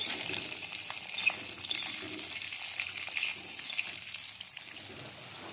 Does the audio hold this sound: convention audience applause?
no